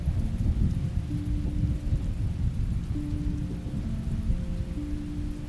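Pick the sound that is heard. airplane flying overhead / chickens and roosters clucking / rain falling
rain falling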